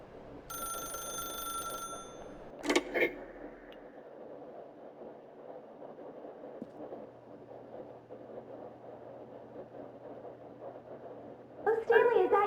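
A telephone ringing in The Stanley Parable video game, a bright electronic ring with a clear tone about two seconds long, then a click and a quiet hum under a voice, with a second ring rising at the end.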